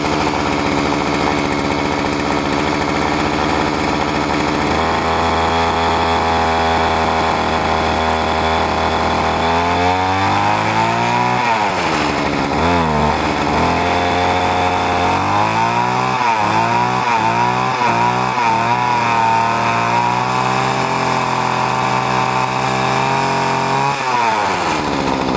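Homelite Expand-it string trimmer with a small two-stroke gas engine runs loud and close after a cold start, idling and then revving up and down repeatedly as the throttle is worked.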